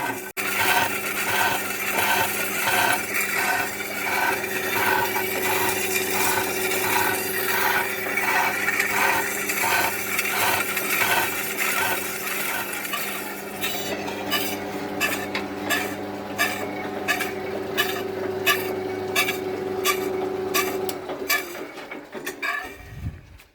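Horizontal milling machine cutting a length of steel plate, with a slightly out-of-true arbor causing some vibration: a steady, loud grinding cut with rhythmic tooth chatter throughout, changing to sharper regular pulses before the cut ends and the machine winds down.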